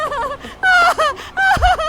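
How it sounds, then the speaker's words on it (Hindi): A woman cries out in distress with loud, wavering, drawn-out wails in several short bursts separated by brief pauses. "कोई औरत बहुत बुरी तरह से चिल्लाई है।"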